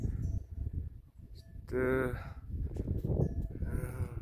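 A herd of chauri, yak-cattle hybrids, climbs uphill in Upper Manang, with one clear bleat-like call in the middle over low rumbling wind and footsteps.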